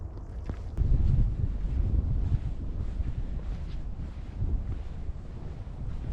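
Outdoor wind in Jasper buffeting the microphone as low rumbling gusts, strongest early then steady, loud and close with no talk.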